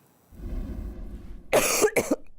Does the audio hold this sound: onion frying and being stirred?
no